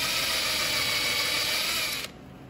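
A small power tool whines steadily at high speed as it scores the surface of an antler tine, a close, continuous buzzing grind that cuts off abruptly near the end.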